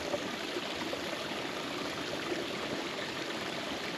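Mountain stream on Langden Brook in the Forest of Bowland, Lancashire, rushing steadily over rocks with a dense, even hiss of water, close by and continuous, with no voices.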